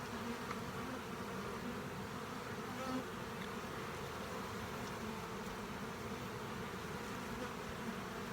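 Honey bees buzz inside an open hive, a dense, steady drone that holds close and even throughout, with no voices.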